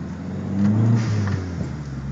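Inside a Dodge Neon SRT-4 on the move, the engine drones and briefly swells under throttle, with a faint interior squeak, all heard from the cabin over a short stretch.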